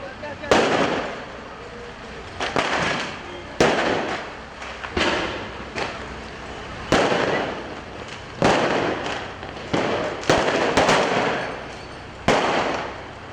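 Fireworks thrown at police during street clashes in Istanbul burst in a string of sharp, loud bangs and crackles, each followed by a short decay, spaced irregularly through the scene, with crowd noise filling the gaps.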